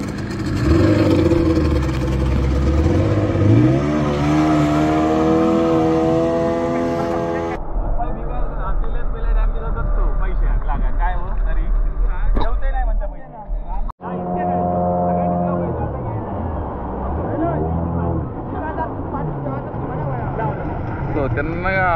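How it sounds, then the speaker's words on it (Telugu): A speedboat towing a banana boat ride drones loudly on open water in Maharashtra, engine note shifting as it turns and passes, with people talking over it throughout. "సో తిన్నగా దీన్ని బనానా రైడ్ అంటారండి. తిన్నగా ఒక రౌండ్ వేసేసి ఇలా వచ్చి పడేస్తాడు."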